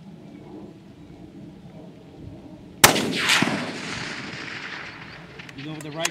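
A precision rifle fires a single shot at a 700-yard target on an outdoor Texas range: one sudden, loud crack after quiet, followed by a long rolling echo that fades slowly.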